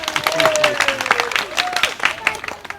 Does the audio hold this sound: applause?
yes